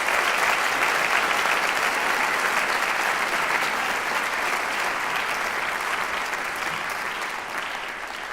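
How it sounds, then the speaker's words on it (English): A large audience gives a round of applause at The Big Sing 2017 opening ceremony, a continuous wash of clapping that holds steady and tapers slightly toward the end. "can we just do a round of applause to acknowledge everybody?"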